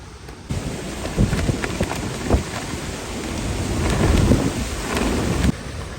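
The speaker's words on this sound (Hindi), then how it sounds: "मैं अपनी ज़िंदगी में पहली मरतबा इतनी तेज़ हवा चलती हुई और इतनी ज़्यादा आंधी देख रहा हूँ।" A strong windstorm drives rain down in Sialkot, a dense, steady roar of downpour and gusting wind with low rumbles inside it. The sound is loud and continuous for the whole stretch, with no voices.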